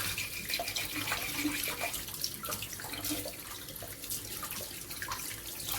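Steady running tap water splashes continuously into a sink, with small irregular splashes and drips as beef trotters are washed by hand under the flow.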